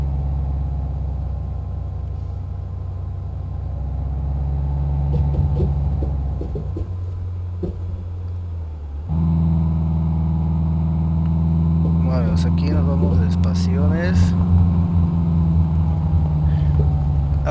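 A vehicle rumbles along a badly damaged road in a truck simulator game, a low steady engine hum with a sudden shift partway through and faint rattles and clicks later.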